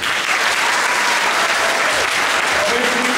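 Loud, dense concert-hall applause from a full audience at a folk dance festival concert, continuous and close with a few voices mixed into the clapping.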